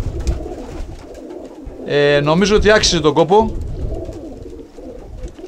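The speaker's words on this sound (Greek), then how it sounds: "γιατί είδαμε τα περιστέρια αυτά" Pigeons give a loud, close cooing burst of layered throaty calls in the middle, while someone speaks Greek before and after over faint background noise.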